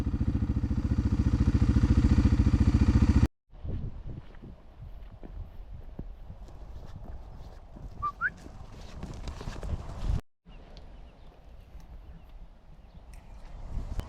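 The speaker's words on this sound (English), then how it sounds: "Don't you just love that noise of the cows snapping the kale stalks?" Loud, irregular snapping and crunching as cows snap kale stalks close by, with a steady engine-like drone at the start.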